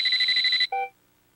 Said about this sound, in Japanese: 携帯電話が騒ぎ始めた。